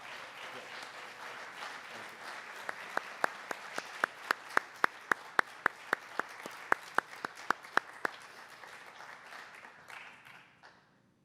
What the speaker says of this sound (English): Please join me in a big round of applause for all of our All-State student athletes.